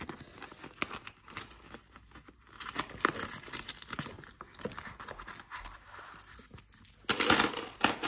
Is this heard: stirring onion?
no